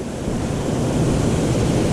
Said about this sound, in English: So you've got the water running off down here, nice deep pool of water, and then here's the waterfall itself.